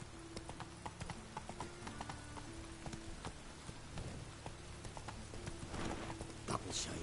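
Geralt's horse Roach galloping in The Witcher 3: Wild Hunt, a steady, fast clip-clop of hooves, close and continuous, over a soft patter like light rain.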